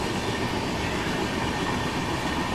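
Delhi to Jammu Duronto Express train running into Ludhiana Junction, a loud continuous rumble of wheels and carriages with steady rail noise throughout and no talk.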